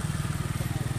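A motorbike engine chugs with a rapid, even low-pitched pulse close by in a park, steady and moderately loud throughout the brief moment.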